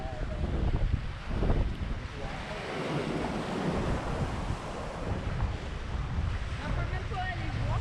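Waves rolling onto a beach beside a dry dock in Grenada, a steady wash of surf mixed with wind buffeting the microphone, fairly faint and continuous.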